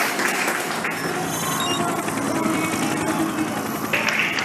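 A large crowd cheers and roars without letup at the Jakarta E-Prix Formula E street race after a lead change, with broad, dense noise holding steady and swelling slightly near the end.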